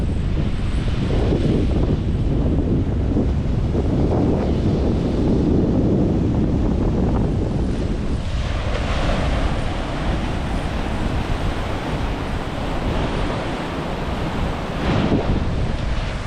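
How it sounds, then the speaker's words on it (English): Ocean surf washes steadily onto a Malibu beach where the Santa Monica Mountains meet the sea, with a gusting breeze buffeting the microphone in a continuous, loud roar. "There's a beautiful breeze going on right now."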